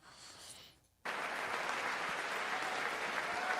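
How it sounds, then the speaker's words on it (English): Applause during a State of the Union address: after a short fading murmur and a brief lull, a large crowd breaks into loud, sustained clapping that stays steady to the end. "Just like a 2-minute applause break for no reason."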